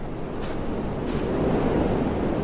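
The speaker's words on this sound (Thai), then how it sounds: "โอ้ทอร์นาโด ทอร์นาโด พายุทะเลทรายครับ กำลังเคลื่อนที่ไปทางไหนไม่รู้นะฮะ" Steady roaring wind from a tornado sandstorm in the Roblox desert driving game A Dusty Trip, a dense continuous rush that swells slightly louder toward the end, with no voices over it.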